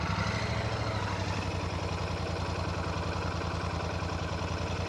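A 2024 Royal Enfield Shotgun 650 with its 650 cc J-series twin idling, a steady low throbbing pulse that stays even and fairly loud throughout, with no revving.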